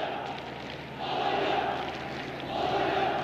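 Alanyaspor supporters chant in a football stadium during a Turkish Cup round-of-16 match against Adana Demirspor, a broad roaring crowd swelling in waves, distant and massed.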